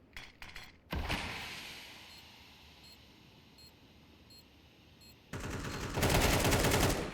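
Pistol gunfire in a Counter-Strike match on Dust2: a quick cluster of sharp shots, a long lull with faint background and small beeps, then dense rapid bursts of fire near the end.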